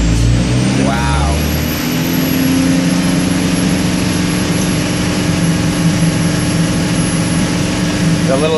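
A loud Cummins 4BT diesel engine, stock, roars at sustained high revs under heavy load on a dyno, a steady droning growl with a rising whine, running continuously without a break.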